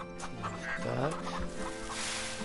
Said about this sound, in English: All different varieties of chickens.